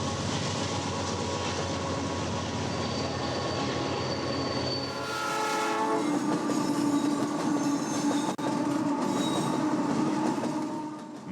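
An eastbound Union Pacific unit coal train on the Moffat Tunnel line, led by an SP AC4400 locomotive, rumbles past loudly and continuously, with wheel squeal and rolling rail clatter.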